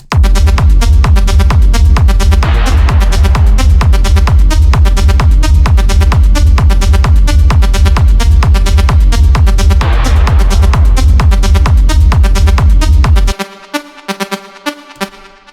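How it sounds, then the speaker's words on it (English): A bright, plucky cosmic techno synthesizer melody with a spacey shimmer rides over a pounding, steady bass beat; the beat drops out near the end, leaving sparse plucks. "Today we're gonna recreate this kind of plucky synth sound"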